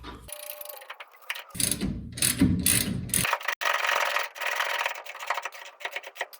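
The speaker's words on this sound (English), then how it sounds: "Final step is just to screw on the nut, and this one's in." A ratchet tightens the nut on a rear shock absorber of a Ford Ranger pickup, giving bursts of rapid mechanical clicking with short pauses between strokes, close and fairly loud.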